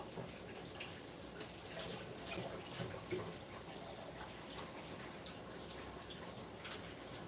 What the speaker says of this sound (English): Just going to give my hands a quick wash here